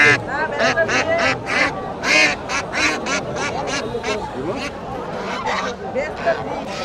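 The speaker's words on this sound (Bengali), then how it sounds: "এই যে এই দিকটাতে আরো হাঁস আছে।" Ducks at a riverside rural market by the Shitalakshya river quack repeatedly in loud, overlapping bursts close by, with people talking throughout.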